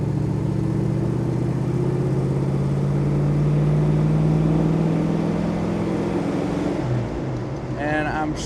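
A 1967 Chevrolet Chevelle SS convertible cruises along with a steady engine drone and wind rush, its pitch rising and falling slightly, as a voice sounds near the end.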